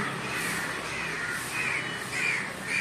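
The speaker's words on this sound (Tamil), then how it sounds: "பறவைகளின் கீச்சலி" House sparrows and other birds call repeatedly outdoors, harsh cawing notes rising over a steady background hiss, moderately loud and a short distance away.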